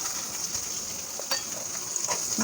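Potato with turmeric frying in a pan for a Marathi home-style bhaji, a soft continuous sizzle with a few light stirring scrapes.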